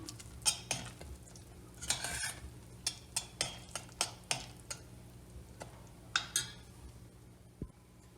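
A spoon stirs Hünkar Beğendi with chopped eggplant in a pot, giving a string of sharp metallic clinks and scrapes at an uneven rhythm over a low, quiet cooking hum.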